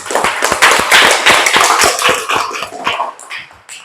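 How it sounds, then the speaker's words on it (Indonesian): A classroom of students gives a group a round of applause: dense, energetic hand clapping that continues for several seconds and then thins out and fades. "Untuk itu silakan kasih tepuk tangan."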